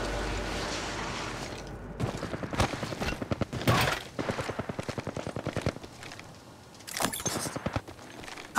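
Automatic gunfire in the mobile battle royale game Apex Legends Mobile: rapid bursts of shots in several volleys, loud and close, with brief pauses between strings of fire and no talk.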